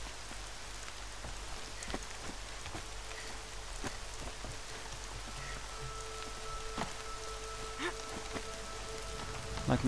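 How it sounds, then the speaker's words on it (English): Constant rain pours in the open-world game Horizon Zero Dawn, a soft uniform patter and hiss of drops held throughout, with faint tonal game sounds over it and no voices. "The rain actually helped me this time."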